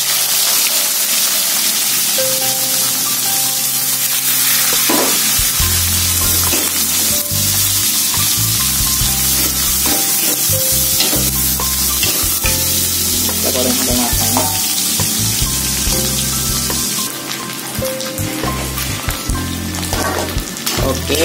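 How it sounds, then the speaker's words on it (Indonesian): Anchovies frying in a pan hiss and sizzle loudly and continuously, with a thick crackling spatter throughout and occasional scraping bumps of stirring; a voice speaks briefly. "Sekarang kita goreng terinya ya."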